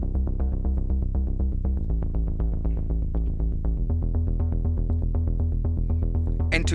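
A synth bass sound playing a fast, steady stream of punchy low notes in a repeating rhythmic pattern, deep and continuous with no other sounds.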